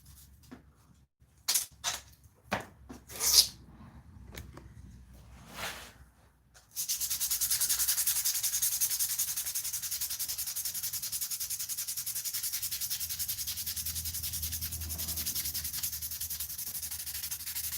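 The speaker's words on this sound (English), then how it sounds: "That's the good thing about brass, it sands pretty quickly." Brass being sanded on a sword guard gives a steady, loud, close abrasive rasp lasting about eleven seconds, after several sharp knocks and clicks of handling the metal.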